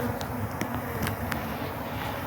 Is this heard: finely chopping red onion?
no